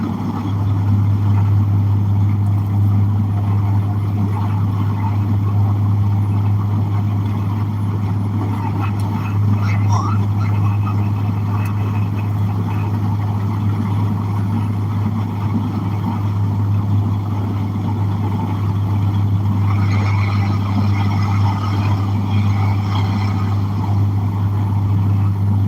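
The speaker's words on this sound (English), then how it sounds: "The truck is running great." A truck engine drones steadily while driving uphill in a convoy, a loud constant low rumble with road noise, with talk over it at times.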